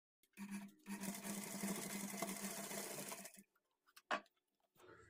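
A sewing machine stitches folded piping along a blouse neckline in one steady run of about three seconds, then stops, leaving a few brief clicks and handling sounds close by.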